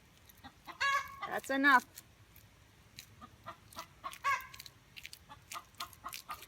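A hen clucks and cackles loudly in short bursts close by after laying an egg, with someone briefly speaking between the calls and quiet background noise.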